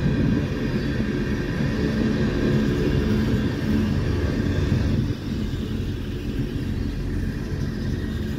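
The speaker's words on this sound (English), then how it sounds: "That's the most reefers I've ever seen on that train." A CSX freight train hauled by vintage EMD locomotives rolls past on track two, a steady loud rumble of wheels and wagons that eases slightly partway through, with no voices.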